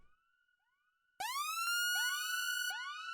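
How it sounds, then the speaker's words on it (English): A synthesized siren with a chorus effect, made for footwork-style drum production, swoops upward in repeated rising sweeps. It is loud, sits alone after a faint lead-in, and has a thick, wavering tone. "the chorus just helps to make it sound more like an actual like siren and less like, I guess, just a dry synth"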